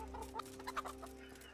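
Chickens clucking in the medieval video game Kingdom Come Deliverance, several short soft clucks scattered over a steady low background hum, fairly faint and with no talk.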